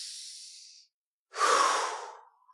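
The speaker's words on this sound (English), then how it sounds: "big, deep cleansing breath" A slow, deep cleansing breath, a soft airy inhale followed by a pause and a fuller, louder exhale that trails off, close and alone.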